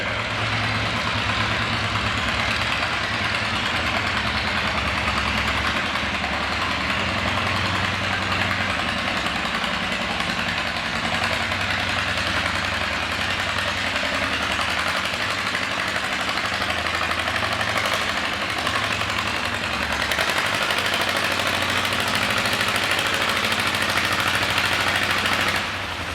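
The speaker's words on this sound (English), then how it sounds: "getting ready to do a little tractor pull in Chatham, Virginia" A classic tractor engine runs loud and steady at a tractor pull in Chatham, Virginia. It rumbles and idles continuously with no talk.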